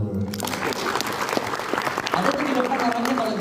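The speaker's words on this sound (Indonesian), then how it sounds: "Tepuk tangan dulu." A seminar audience at a sales training session bursts into applause, a dense burst of hand claps lasting a few seconds, with a voice briefly audible underneath.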